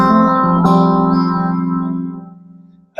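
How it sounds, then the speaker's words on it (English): A sustained guitar chord rings out with a strong reverb tail, slowly decaying before a brief new pluck at the end. "Sometimes I tend to use a bit too much reverb"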